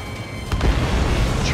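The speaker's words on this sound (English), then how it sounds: "Analysis shows the projectile was a railgun shell." Railgun shell striking in the video game Ace Combat 7, a single deep, heavy boom that erupts suddenly and rolls on as a loud sustained rumble, with no voices.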